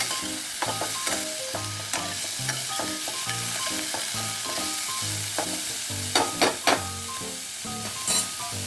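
Ingredients for tomato poha fry in a pan until pinkish, with a continuous sizzle broken by a regular rhythm of stirring scrapes and a few sharper clinks near the end, no one speaking.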